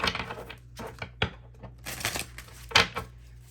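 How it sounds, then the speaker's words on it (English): A deck of tarot cards being shuffled close up, with bursts of riffling and soft slapping clicks that come and go irregularly, fairly quiet with pauses between them and no talking. "we're going to put them back in the deck and do a shuffle"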